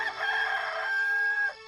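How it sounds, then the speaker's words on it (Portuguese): A rooster crows once, loud and close, in a single long, sustained cock-a-doodle-doo call that holds steady before tailing off. "Imediatamente cantou o galo."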